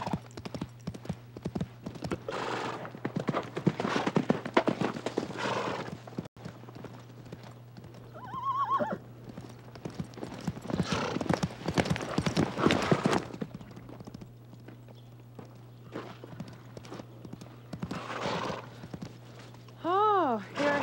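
Horse hooves clip-clop at a steady walking pace on a hard surface, close by, with brief whinnies and neighs rising over them and people talking at times in between.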